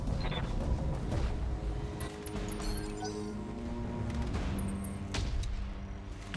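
A mech in a video game fires its AC-20 autocannon, with loud booming blasts and crashes in quick succession over rumbling game noise. No one speaks.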